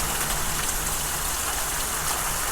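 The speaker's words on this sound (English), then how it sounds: "And we're getting hail." Rain and small hail from a passing thunderstorm make a dense, steady hiss of drops on surfaces, loud and unbroken throughout, with no voices.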